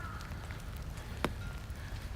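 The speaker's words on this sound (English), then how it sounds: "to the rainy weather after the snow yesterday and today." Rain falls steadily after snow in Tokyo, a soft, even hiss of drops on the ground outdoors with one brief sharper tick partway through, all at low level.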